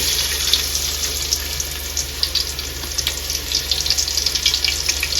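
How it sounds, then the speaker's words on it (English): Onions fry in hot oil for a Nigerian tomato stew, a steady bright sizzle with crackling pops, close and fairly loud, continuing without talk. "So now we're going to go in with our onions into our oil."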